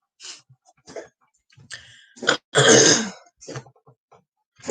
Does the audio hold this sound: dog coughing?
yes